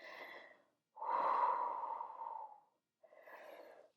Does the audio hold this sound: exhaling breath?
yes